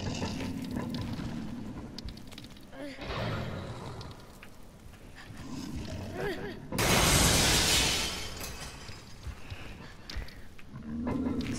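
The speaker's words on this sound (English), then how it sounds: "So I'm assuming I can throw this helmet at the glass." In The Last Guardian, a thrown helmet strikes glass and the pane shatters in one loud, bright crash lasting about a second, set against quieter rumbling ambience and creature sounds before and after.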